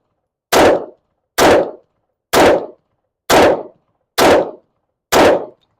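Rapid fire from a Beretta M9A4 pistol, six loud, sharp shots at a steady pace of just under one per second, each with a short decaying tail and clean silence between.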